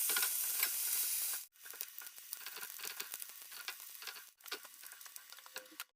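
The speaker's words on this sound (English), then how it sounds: "I'm going to be frying up 4 strips of bacon" Close, crackling sizzle of bacon frying in a pan, a dense hiss broken by two brief pauses, with occasional pops and spatters.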